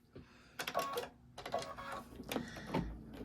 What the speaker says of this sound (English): All right, we're going to stitch this last part right here.